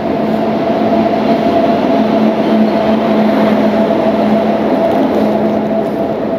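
The Kanchankanya Express (13149) stands at a junction with its engine, giving a loud, steady rumble with a constant engine hum throughout.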